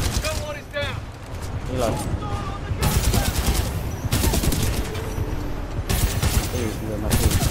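Heavy gunfire rattles through a hard-mode Titanfall 2 fight, rapid automatic bursts in loud, nearly continuous volleys with someone talking over the shooting.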